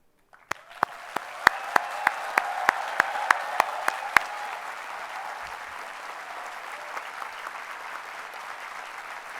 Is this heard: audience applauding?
yes